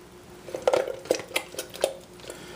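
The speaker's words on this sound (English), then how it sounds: "Give it a little stir." A utensil stirs BBQ pork sauce in a pot, giving several close metallic clinks and scrapes in an uneven rhythm over a couple of seconds.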